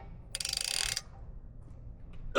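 Ratchet wrench with a wobble socket on a bolt of a 2024 Ford F250/F350 Super Duty during a lift kit install gives one quick burst of rapid clicks, close and crisp, followed by quiet and a faint clink at the end.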